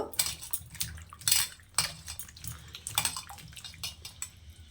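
Ash gourd pieces for murabba being washed by hand in a bowl of water: splashing, sloshing and dripping come in irregular bursts, with occasional clinks of the bowl, close up and moderately quiet.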